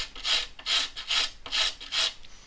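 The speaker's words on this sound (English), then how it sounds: "Let's basically go ahead and scrape this glue off." A scraper drawn repeatedly over glue on the wooden body of a Magnum acoustic guitar: five steady, close rasping strokes in an even rhythm, with no talk.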